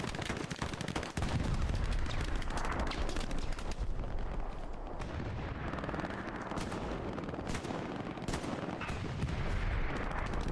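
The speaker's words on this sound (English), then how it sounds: "Got armor over there, firing HE into this" Tank cannon fire and heavy gunfire roar in a Hell Let Loose battle, with loud repeated booms and dense crackling shots packed together in a chaotic, continuous barrage.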